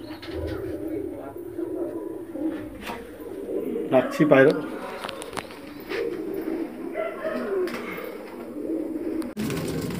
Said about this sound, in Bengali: জোড়া এই বাচ্চা খুব ভালো ওড়ে, এই পাখি পায়রা বলি, পাখি পায়রার জোড়া।